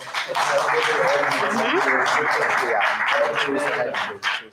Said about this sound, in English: ladies and gentlemen, please give me a round of applause